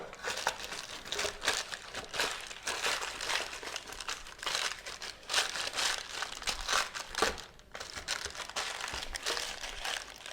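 Paper edges are crumpled and pressed into a loaf pan, giving close, steady crinkling and crunching in repeated bursts with a brief pause near the end, no voices.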